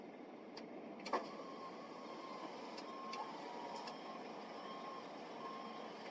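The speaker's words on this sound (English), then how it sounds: "Sorry about the alarm." A truck's reversing alarm beeps faintly and intermittently over a steady, loud engine rumble heard from inside the cab, with a few sharp clicks scattered through.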